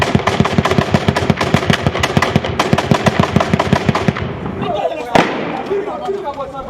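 Rapid bursts of gunfire ring out from several directions during fighting in a Malian town, dense cracking shots for about four seconds, then a quieter stretch broken by one sharp, loud report.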